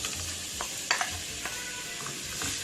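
Sliced dudi (bottle gourd) frying in hot ghee in a pan, a steady soft sizzle with a few light stirring clinks, close and continuous with no talking.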